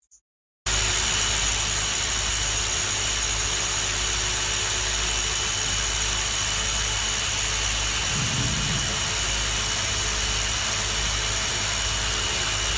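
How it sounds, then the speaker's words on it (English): An array of four Hilti drills bores into a tunnel wall, producing a loud, steady mechanical roar with a high whine that begins abruptly after a moment of silence and holds unbroken to the end. "A set of 4 drills advances into the wall until it reaches the depth and then will retract automatically."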